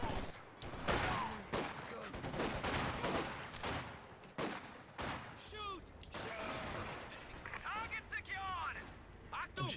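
MG34 machine gun fire in the strategy video game Company of Heroes 2, with bursts and scattered shots of battle gunfire, slams and mechanical clatter mixed under a busy combat soundscape.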